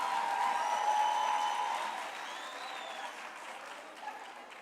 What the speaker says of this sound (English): Another round of applause for our